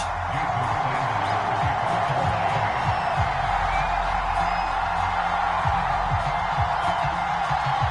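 Steady roar of a stadium crowd from the Madden football video game, a home crowd before a Dolphins versus Jets matchup, continuous and loud throughout with faint whoops rising out of the din.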